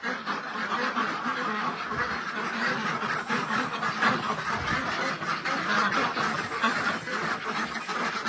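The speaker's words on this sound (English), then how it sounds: "I'll let you see the ducks" Farm ducks quack in a dense, continuous chatter during a blizzard, steady and moderately close, blended with a constant wash of wind noise.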